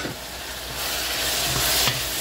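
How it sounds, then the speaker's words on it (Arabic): Onion and pepper fry in a pan, giving a steady sizzle that swells a little as they are stirred, with a few soft scraping knocks near the end and no talk. "كما كتشوفوا دابا غادي نحركوا البصله ديالتنا"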